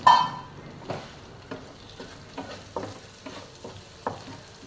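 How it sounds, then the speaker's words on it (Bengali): Spice paste mixed with tomato paste stir-fried in a pan for egg chilli, with sharp spatula scrapes recurring about every half second over a low, steady sizzle. "এরপরে আমি এখানে একটা টমেটো বাটা দিয়ে দেব আর সেটাকেও খুব ভালোভাবে মাখিয়ে নিতে হবে"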